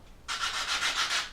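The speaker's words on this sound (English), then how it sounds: "And then I just start sanding" 220 grit sandpaper on a sponge rubs back and forth across a painted HO scale model, a close, soft, steady rasp in rhythmic strokes with no talking.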